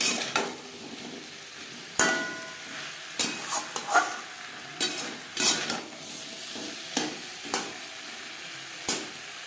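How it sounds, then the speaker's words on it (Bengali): Cauliflower, potatoes and spices are stirred in a pan over a faint sizzle, with a spatula scraping and knocking in repeated uneven strokes about once a second. "ভাপিয়ে রাখা ফুলকপি আলু ও মশলার সাথে ফুলকুড়ি বেশ ভালো করে মিক্স করে দেবে"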